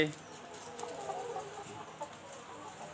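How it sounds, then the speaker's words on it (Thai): Egg-laying hens cluck faintly in a chicken coop, a soft, continuous murmur of scattered clucks with a low rustling background. "นี่แหละครับไก่พันไข่"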